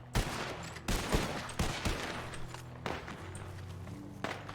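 Lancaster rifle shots in the RedM video game, several sharp loud reports with short gaps and echoing tails, fired at a steady pace.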